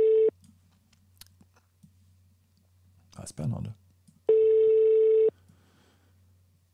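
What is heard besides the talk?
telephone ringing tone while placing a call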